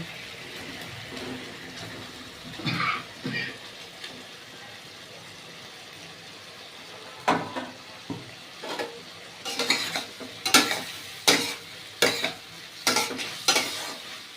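Egg bori and potatoes fry in a pan with a soft continuous sizzle, then a spoon stirs them in a run of rhythmic scraping strokes against the pot, loud and close.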